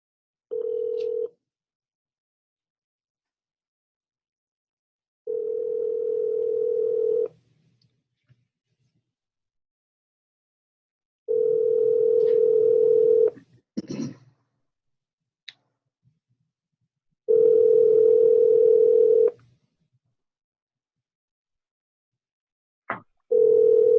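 Telephone ringing tone heard while calling someone back: steady, fairly loud tone bursts of about two seconds, repeating roughly every six seconds, with a few faint clicks in the gaps and no voices.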